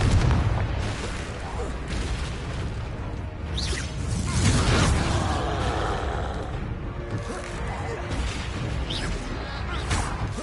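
Confringo blasting spell explosions in Hogwarts Legacy, loud booming bursts and whooshes amid a dense battle din, with voices talking over the action.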